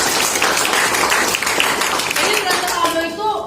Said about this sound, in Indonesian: berikan aplaus buat teman-teman